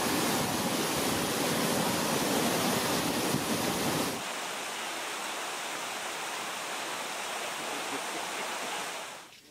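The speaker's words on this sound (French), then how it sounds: "Baignade bien méritée sous la cascade" A waterfall in Tanzania cascades with a loud, steady broadband roar that suddenly drops to a softer rushing hiss partway through, then fades out.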